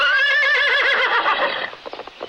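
A horse neighs loudly in a radio drama as its rider rears it, a long wavering whinny that breaks into a few quick hoof clops at the end.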